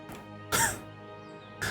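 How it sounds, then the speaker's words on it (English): A person clears their throat in a few rough, close bursts, one short rasp followed by a longer, louder one and the start of another, over a faint steady hum. "I'm gonna keep having to mute and clear my throat"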